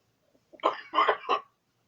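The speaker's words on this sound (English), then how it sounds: "I'm sorry, I'm coughing right now." A person on a podcast coughs a few times in a quick, close burst of three harsh, throaty hacks, followed by silence.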